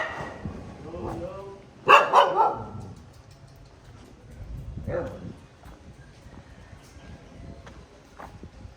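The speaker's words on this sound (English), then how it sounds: "Dangerous dogs." Dogs at a Thai temple barking in a few sharp, separate bursts, one loud close bark followed by fainter ones, with people talking in between.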